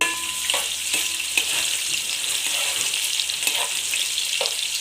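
Fish fries in hot oil for a Telangana-style red chilli fish curry, a loud, dense, continuous sizzle broken by a few scraping stirs, close and with no voices.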